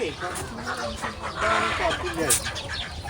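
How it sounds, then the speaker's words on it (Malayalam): Chickens cluck and call in a poultry section of a farm, with a busy run of overlapping bird sounds throughout and people talking nearby. "ഇത് കോഴി ഫാം ആടോ."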